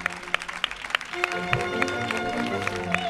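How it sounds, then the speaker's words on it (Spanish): Studio audience applause on a Spanish comedy show, a steady dense patter of clapping with sharper individual claps standing out, fairly close and sustained throughout. "un aplauso para ella"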